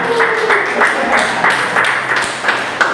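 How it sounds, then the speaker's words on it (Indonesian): A class claps together in a room during a cryptography lesson, bursts of hand claps repeating in a loose rhythm at moderate loudness, with no voices over it. "baik, tepuk tangan dulu."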